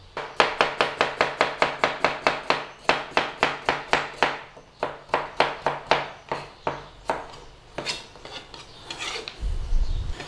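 Carrots being chopped into chunks on a cutting board: a fast, steady run of crisp knife strikes, close and fairly loud, with brief pauses between bursts and no talking.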